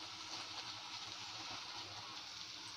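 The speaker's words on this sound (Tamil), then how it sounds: "நெக்ஸ்ட்டு வந்து நம்ம இதில் தண்ணி சேர்த்துக்கலாம்." Water is poured into mutton curry in a cooking pan, a steady faint gushing splash that runs unbroken and quiet, with no talking.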